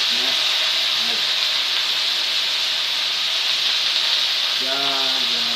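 Loud, steady hissing sizzle of cabbage frying in a hot pan with water and oil, with brief voices speaking near the start and end.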